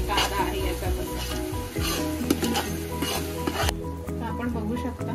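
Onions and tomatoes sizzle steadily in a pan as they are stir-fried for chicken biryani, with repeated scraping stirs over a continuous frying hiss that cuts down abruptly near the end.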